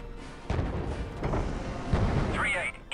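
Turbolaser fire and explosions in the Star Wars shooter Republic Commando: heavy booming blasts land in bursts over a rumbling battle din, mixed with game chatter.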